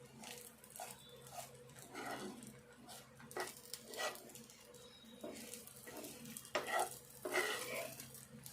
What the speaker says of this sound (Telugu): ఈ మిర్చి అంతా కూడా మంచిగా వేగింది